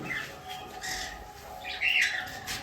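Two pairs of Java sparrows, caged and kept for sale, give a few faint, thin chirps against a quiet background, with no talk.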